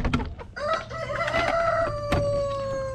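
A rooster crows loudly and close by in one long, drawn-out call, with clucking from other chickens around it.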